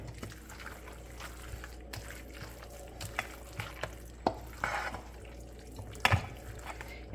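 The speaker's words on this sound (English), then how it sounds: "So now we're going to stir this all up." Dorito chicken casserole mixture stirred with a wooden spoon: soft, wet squelching and scraping strokes, close and quiet, with a few sharper knocks of the spoon against the dish.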